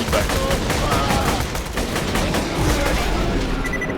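Borderlands 2 video game gunfire rattles as a steady barrage of shots at moderate level, with faint talk beneath.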